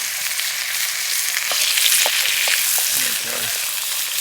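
A rasher of bacon frying in a pan on a Bushbox XL camp stove outdoors, a loud continuous sizzle and crackle with faint voice fragments beneath.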